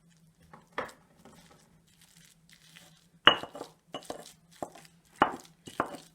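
Chopped shallot mixed into mashed avocado in a bowl for wood-fired guacamole, sparse soft squelching and clinking spoon taps against the bowl in short irregular bursts over near silence.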